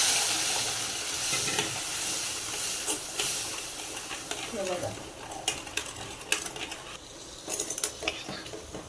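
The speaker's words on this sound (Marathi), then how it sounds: "आपण दूध टाकून घेऊया आता इथे आणि हलवून घेऊया" Sheera being stirred in a new kadhai after milk is poured in: a soft, steady hiss and sizzle with scattered scraping clicks from the spoon that grow sharper toward the end, quiet and close.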